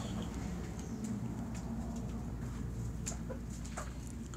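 Young hens cluck faintly and sporadically beneath a constant low rumble of background noise, with short scattered calls across a few seconds.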